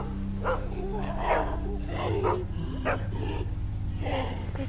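In The Walking Dead Season 2 video game, a dog gives a string of rough barks and growls, close and fairly loud over a steady low drone of game ambience.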